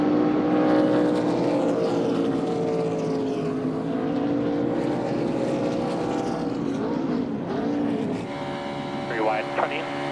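Stock cars racing in the 2014 Daytona 500, a loud continuous drone of many engines with rising and falling pitch as cars pass close.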